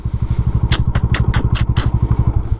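A Bajaj Dominar 400 motorcycle scrapes its underside over rocks on an off-road trail to Kanva Dam: a series of sharp clattering knocks rises over the bike's loud, pulsing engine.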